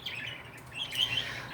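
Pet budgies give a few quick, bright chirps indoors, soft and somewhat distant, with short gaps between calls and no speech.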